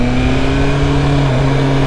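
A BMW M1000R motorcycle fitted with a new aftermarket exhaust runs with a steady, loud engine drone close by, holding a constant pitch without voices.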